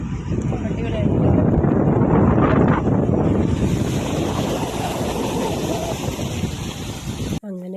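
A boat ride on open water, with constant rushing wind and water noise and a low engine-like rumble filling the whole stretch at a loud, close level.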